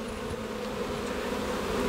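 Honey bees hum steadily in an opened hive with nectar and pollen, a dense continuous buzz of many insects heard close and alone.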